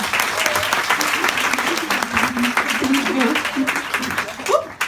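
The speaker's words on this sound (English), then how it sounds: "let's just give her a big round of applause" An audience at a live Wanderlust Tremblant event welcomes a speaker with loud, sustained applause, with voices and cheers mixed into the clapping.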